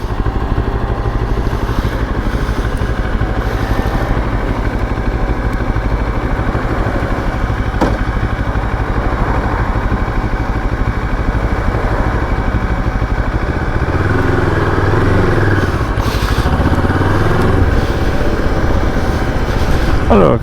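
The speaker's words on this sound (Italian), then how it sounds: "c'è un bel po' di traffico oggi perché c'è il mercato" Heavy market-day traffic beside the old walls of Cittadella in Italy: a steady, dense rumble of engines that holds continuously throughout, with a slightly louder swell passing close toward the end.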